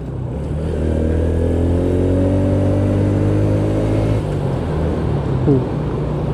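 A Honda Supra X 125 motorcycle accelerates up a hill, its engine close and loud with a pitch that climbs steadily, dips around a gear change, then pulls again with a brief rasp near the end.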